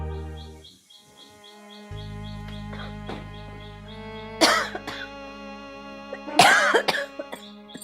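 An elderly mother coughs in two harsh, close bursts, rising over quiet tonal background music and bird chirps.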